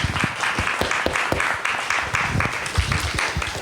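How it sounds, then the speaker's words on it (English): A thesis day audience gives the presenters a round of applause, steady dense clapping from a medium-sized crowd, moderately close, with no talk over it. "One more round of applause for everybody who's presented"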